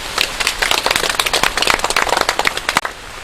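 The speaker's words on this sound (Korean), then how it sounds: "우리 박수 좀 쳐주세요." A burst of clapping from a small crowd of pepper growers on a farm study tour, many hands beating fast and uneven, fairly close and loud, tapering off near the end.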